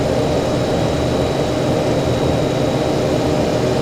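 Fokker F27 turboprop engines throttled back to idle during the landing rollout in a flight simulator, a steady loud broadband roar with a faint high whine running unchanged throughout, no voices.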